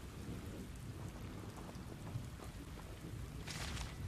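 Steady rain pours in the game Hogwarts Legacy, a constant wash of drops with low rumbling thunder beneath and a brighter burst of rain near the end.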